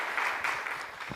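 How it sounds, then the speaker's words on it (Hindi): An audience at a Hindi poetry recital claps in a short, dense burst of applause, moderately distant, with no talking over it. "आप लोग एक बार तालियां बजाकर मुझे आशीषित करें"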